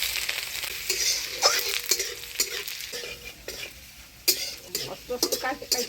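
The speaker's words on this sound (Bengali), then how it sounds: "এবার ফোড়নে দিয়ে দিব শুকনো লঙ্কা, তেজপাতা, থেতো করা আদা আর পাঁচফোড়ন" Dried chili, bay leaf, crushed ginger and panch phoron sizzle in hot oil for a Bengali village khichuri, a steady close crackle broken by scraping stirs and light clinks of a pot.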